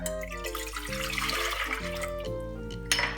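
Water pours into a medium pan for syrup, a close, continuous splashing pour whose pitch shifts in steps as the pan fills, with no talk.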